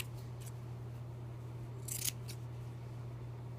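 Scissors cut fabric for a snowman's hat: a few faint snips, then one crisp, louder cut near the middle, over a low steady background hum.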